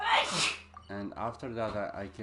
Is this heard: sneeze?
yes